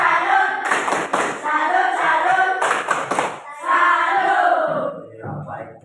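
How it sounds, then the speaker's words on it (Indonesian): A school class chants the rhythmic 'tepuk salut' cheer together, young voices calling out in unison with clusters of sharp claps punctuating the chant at regular beats. "Kita tepuk salut untuk kita ke satu kelas ini."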